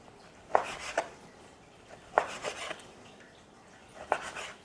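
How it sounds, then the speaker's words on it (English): Knife slicing raw beef thinly with the grain on a cutting board for Chinese takeout beef with broccoli: three separate bursts of short, crisp cutting strokes, close and moderately loud, no talk. "you can slice it with the grain to make it smaller first"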